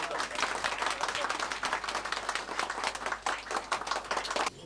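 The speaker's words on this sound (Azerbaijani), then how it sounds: "Gəlin alqışlayaq" An audience claps steadily throughout at an Azerbaijani commemorative event, a dense, even patter of many hands sustained at moderate loudness without pause.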